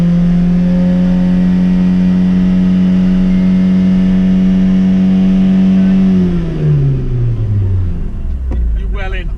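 A Renault Clio Sport engine holds a loud, steady high rev on a wet Oulton Park track, then drops in pitch as it eases off, heard from inside the car with no talk.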